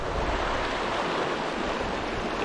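Gusty wind beside a trout stream, a dense, steady roar of rushing air and water buffeting close to the microphone, loud and unbroken.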